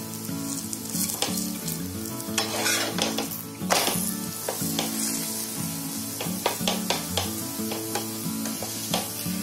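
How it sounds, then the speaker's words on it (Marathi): Sweet flatbreads (poli) roasting in plenty of ghee on a hot pan, with a steady close sizzle broken by scattered clinks and scrapes from a turner or spatula. "चांगलं भरपूर घी असं लावतात आणि असे पोळ्या भाजून काढतात."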